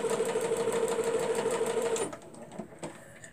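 A sewing machine stitches quilt fabric in a fast, even mechanical run for about two seconds, then stops, leaving a few small clicks and handling sounds.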